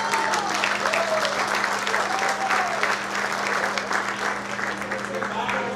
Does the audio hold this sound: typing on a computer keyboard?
no